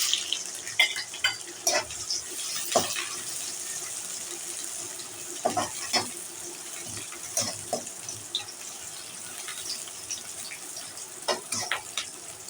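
Sliced onions are stirred while frying in oil with fennel seeds and curry leaves, giving a soft steady sizzle broken by repeated scraping strokes of a spoon against the pan.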